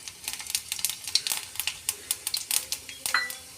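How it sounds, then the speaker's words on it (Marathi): Cumin seeds crackling in hot oil for tempering, a rapid scatter of small dry pops and ticks, close and fairly quiet, with no talking. "जिरं पूर्णपणे तडतडल्यानंतर"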